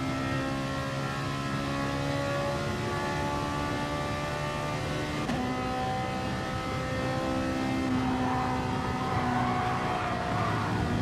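A Ferrari flat-plane V8 in a racing video game screams steadily at high revs with strong harmonic whine, shifting pitch briefly midway, loud and continuous without speech.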